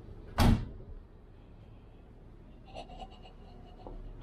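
One solid, close thud as the door of a 1972 Range Rover shuts, then quiet with a few faint clicks and rattles afterward.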